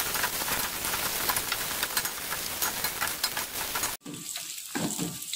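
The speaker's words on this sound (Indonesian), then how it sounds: "ini kita tumis hingga mengeluarkan aroma yang wangi" Spices sauté in a hot pan until fragrant, giving a dense, steady sizzle with stirring scrapes that drops abruptly near the end into quieter, patchy frying.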